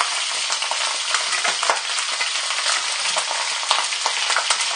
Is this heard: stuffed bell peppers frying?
yes